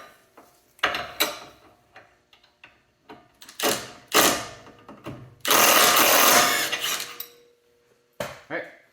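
A T45 bit and 22 millimeter wrench work the nut off a Tesla Model 3 front compression rod, producing irregular close metallic clicks, ratcheting bursts and clanks of tools, with one longer harsh grinding stretch in the middle.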